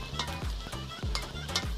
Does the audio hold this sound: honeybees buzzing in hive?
no